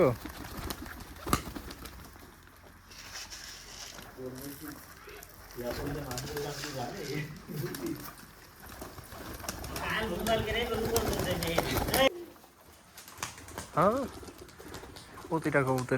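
Giribaj pigeons coo softly at a Rajshahi pigeon loft, low murmuring calls and an occasional wing flutter running under people talking for much of the stretch.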